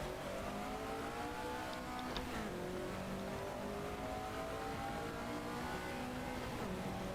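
Raspy car engine heard from an external view in the racing game Gran Turismo Sport, droning steadily with rising and falling revs through gear shifts, loud and continuous without any talk.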